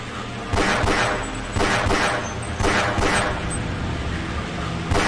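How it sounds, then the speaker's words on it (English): Gunshots from a handgun in Half-Life, several sharp reports spaced about a second apart, loud and close over a steady game background. "Now, pull out your gun and shoot them"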